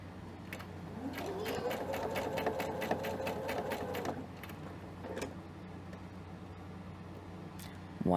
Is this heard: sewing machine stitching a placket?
yes